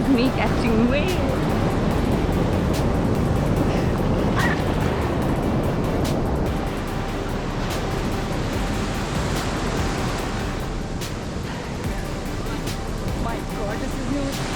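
Continuous wash of breaking ocean waves and surf on the coast at Gokarna, Karnataka, loud and close, rolling steadily with a faint voice briefly audible early on.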